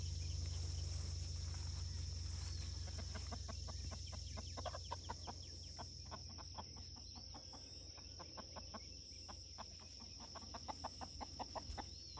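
Several chickens cluck softly in short, repeated bursts against a steady hum and faint insect chirping, fairly distant.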